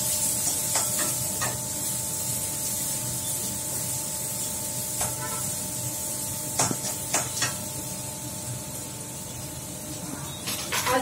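Potato, green chilli and onion fry in a pan for chutney, making a steady, quiet hiss with occasional sharper crackles and utensil clicks, heard close and alone.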